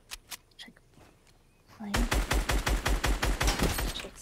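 Rapid automatic gunfire from a Fortnite solo tournament match, starting with a couple of isolated shots, then a loud, steady burst of evenly spaced shots in the second half, with faint voices underneath.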